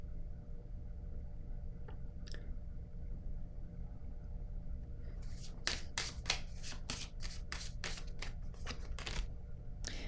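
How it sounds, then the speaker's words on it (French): Tarot cards are handled and laid down on a table, first a quiet stretch with a couple of soft taps, then a rapid burst of crisp card snaps and slaps over a low steady background hum. "Là, je vais déposer une autre carte ici."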